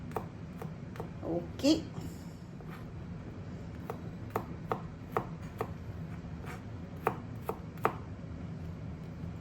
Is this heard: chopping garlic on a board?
yes